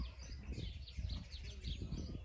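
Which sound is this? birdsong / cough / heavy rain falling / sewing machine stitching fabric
birdsong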